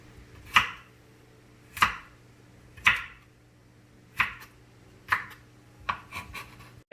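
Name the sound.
dicing vegetables with knife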